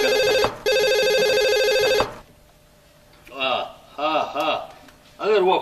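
A telephone rings loudly and close: two long electronic ringing bursts, separated by a brief gap, then stop. Speech follows after a pause.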